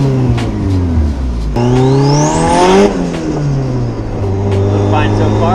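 A twin-turbo car engine revs hard and loud up through the range, then drops back with a whooshing wastegate release, steady engine drone continuing close by.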